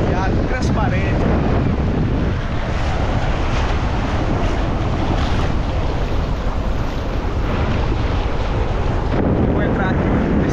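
Sea surf at a beach in Aracaju, with a steady loud wash of waves and heavy wind buffeting the microphone throughout, no talk.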